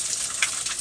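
Water runs steadily from a faucet placed after a water tank, a continuous close hiss and splash with no talking.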